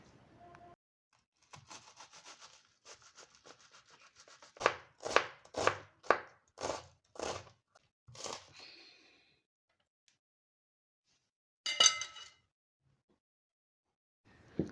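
A knife finely chops an onion on a board: a few light taps, then a run of about seven loud, evenly spaced chops close by, silence, and a short final burst of cutting.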